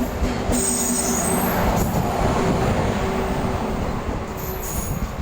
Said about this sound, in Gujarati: આ ટ્રેન જો આવી રહી છે અત્યારે